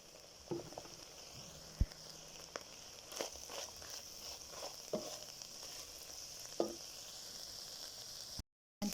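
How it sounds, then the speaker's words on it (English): Omena fish frying in generous garlic lime oil, a steady close sizzle with scattered sharp crackles and pops that continue throughout. "You can see the omena are now crisping up. You can even hear the crackling."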